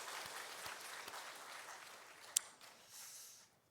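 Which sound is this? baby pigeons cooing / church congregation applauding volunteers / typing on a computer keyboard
church congregation applauding volunteers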